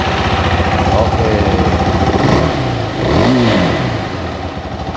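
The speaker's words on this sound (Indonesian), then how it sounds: "kita coba hidupkan dulu mesinnya" A 2020 KTM 390 Adventure single-cylinder motorcycle engine runs close by, with a steady thumping idle that swells with a couple of short revs.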